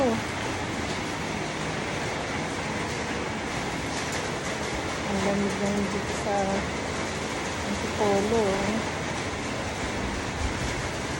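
A loud, continuous roar of strong typhoon wind at a resort buffets throughout, with people talking underneath.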